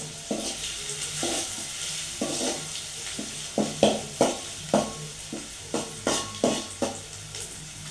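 Onions for a fish stew fry in a pan under a steady sizzle, while a spoon scrapes and stirs them in a run of regular, close strokes, without talk.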